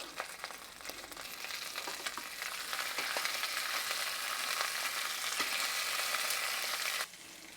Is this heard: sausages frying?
yes